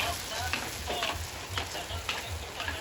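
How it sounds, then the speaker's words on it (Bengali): Fuchka (panipuri) puris deep-frying in a pan of oil at home, giving a steady broadband sizzle dotted with sharper crackling bursts over a low hum, heard close up. "আমাদের বাড়িতে চলছে এখন ফুচকা ভাজা"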